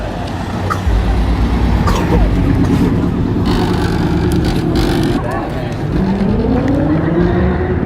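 Several cars pulling away from a car meet, engines revving and rising in pitch at moderate distance, with a brief tire squeal, while people talk over the steady engine noise.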